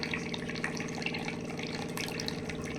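Alkaline water from a water machine runs steadily into a glass as a soft, continuous trickle over a faint low hum, with no talking.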